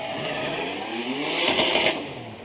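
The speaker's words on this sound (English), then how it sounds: "trying to keep the car sideways" Drift car sliding sideways at Fuji Speedway during Formula Drift Japan qualifying, engine revving loudly with squealing tires that swell to a peak and then ease off, heard from a moderate distance.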